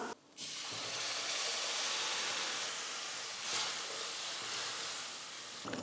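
Ground tomato poured into hot oil with garlic gives a loud, steady sizzle and hiss that starts abruptly and continues unbroken, swelling briefly midway.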